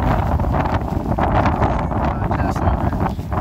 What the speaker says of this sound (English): The wind's blowing like 30 miles an hour.